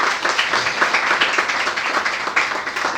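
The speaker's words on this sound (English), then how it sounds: "A bit of clapping for her as well." An audience at an IELTS and spoken-English institute in Lahore claps steadily for a presenter, a dense, even patter of many hands filling the room with no voices over it.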